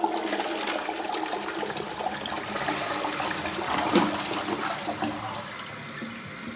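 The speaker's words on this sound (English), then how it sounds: "Now I'm going to do a full flush." A toilet fitted with Korky and Danco dual flush kits does a full flush, a steady rushing of water that swells around the middle and settles into a continuous trickle as the bowl drains, with no talk.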